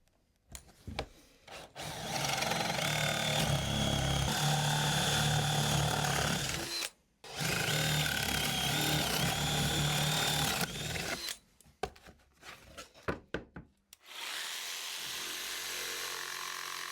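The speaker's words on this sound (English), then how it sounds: "grab a Forstner bit and drill some holes in here to make a handle" A Forstner bit bores holes into wood for a handle on a dog scratching box, a loud steady power-drill grind running in two long passes with a short break between, then ragged bursts and a quieter hum at the end.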